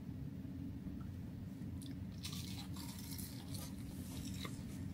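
Close crunchy chewing of fried food, with several crisp bites and munches standing out over a low steady background hum, no talking.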